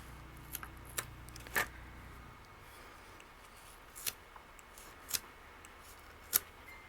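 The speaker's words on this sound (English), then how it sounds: "And then you take your knife, stick it inside the yarn," A knife slices through yarn wrapped on a popsicle stick for a miniature duster, giving a handful of faint, sparse, close snipping ticks spread over quiet background.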